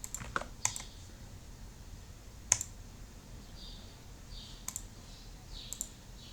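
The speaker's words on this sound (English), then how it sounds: "simply click on this one and log in with the credentials provided" Quiet, nearby clicks and light keystrokes on a computer keyboard and mouse as login credentials are entered, scattered irregularly over low background hiss.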